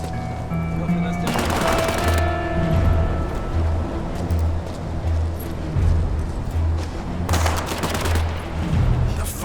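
Bursts of gunfire, including machine-gun rattles, crackle at a distance in the War Mongrels video game, coming in two clustered volleys over a low ambient rumble of wind and water.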